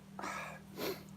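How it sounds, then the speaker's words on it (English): A single soft, breathy sneeze, quiet and close, with a short intake followed by a brief burst. "I'm going to sneeze."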